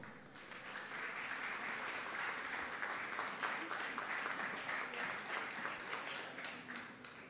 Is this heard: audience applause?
yes